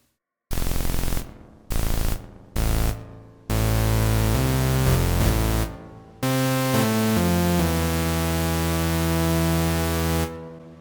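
A droning virtual analog synthesizer oscillator tone in UVI Falcon 2 with harmonic overtones plays in short bursts, then in long sustained stretches, drenched in heavy reverb that washes between notes.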